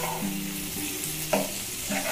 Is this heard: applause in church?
no